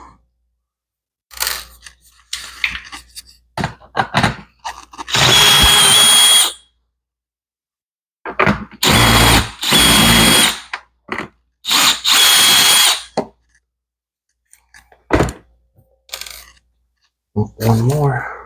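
A power drill whirs in several loud bursts while backing screws out of a GE dishwasher trim panel, with short clicks and rattles of handling between runs, close by and without talking.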